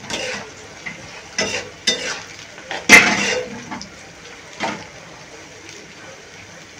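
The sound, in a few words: frying and stirring biryani ingredients in a pan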